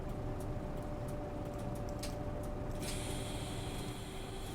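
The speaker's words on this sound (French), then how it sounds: "une porte qui s'ouvre." Inside a Van Hool bus in the OMSI 2 simulator, the door opens partway through with a sudden steady pneumatic hiss. It rises over a constant low engine rumble and lasts to the end.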